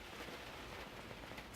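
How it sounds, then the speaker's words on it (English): Rain keeps falling on a camper van during a rainstorm in Oklahoma City, a steady, even hiss of drops on the roof with no voices, fairly soft and continuous. "Still raining pretty good."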